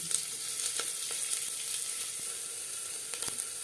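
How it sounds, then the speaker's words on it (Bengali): Chopped onion and crushed garlic frying in refined oil, a close, steady crackling sizzle that runs unbroken, with a few sharper pops and light stirring scrapes, no one talking. "এক চামচ রিফাইন্ড অয়েল দিয়ে দিলাম পেঁয়াজ কুচি রসুন যেটা আমি থেতো করে নিয়েছি"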